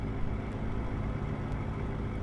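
Simulated Cummins X12 engine pulling a Kenworth T6 truck in American Truck Simulator, a steady low diesel drone lugging at low revs, continuous and fairly close, with no talk.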